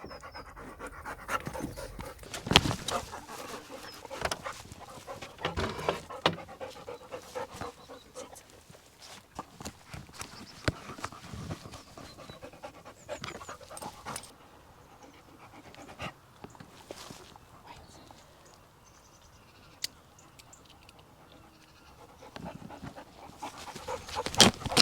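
Rosie the dog pants rapidly and repeatedly close to the microphone on an allotment plot in August, with rustling, scuffing and footstep noises around her.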